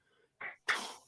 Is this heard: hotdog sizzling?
no